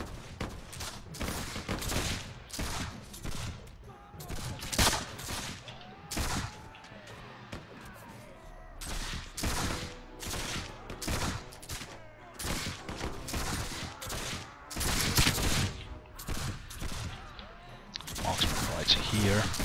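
Dense musket volleys and scattered gunfire crackle nonstop through a Mount & Blade With Fire & Sword battle, loud bursts layered with distant shots and clashing noise, with voices shouting beneath.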